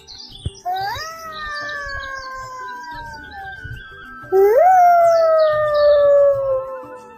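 A voice imitates a jackal howl in two long, wavering, rising-then-falling wails, the second louder and closer, with no other talk.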